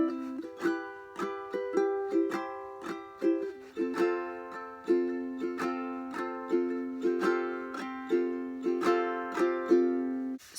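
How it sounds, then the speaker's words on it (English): A ukulele is strummed through altered chords in an even, bright rhythm, each chord ringing briefly before the next crisp strum, played close and alone. "for the second verse I'm dropping the finger picking and just doing strumming but still adding those extra fingers"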